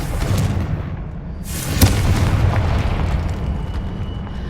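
A Confringo spell explodes in Hogwarts Legacy, a single sharp blast that cuts through a dense, rumbling game soundscape and quickly fades back into the low roar.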